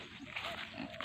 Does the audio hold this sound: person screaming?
no